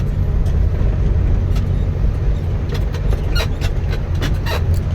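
Dump truck engine idling steadily at around 1000 rpm after a new rear differential was fitted, a continuous low rumble with faint clicks and rattles above it, no voices.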